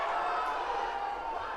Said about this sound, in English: And the crowd baying for blood.